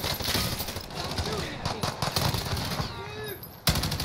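Sniper gunfire in a video game: sharp shots crack amid ongoing gunfire, with players talking over them and one loud shot right near the end.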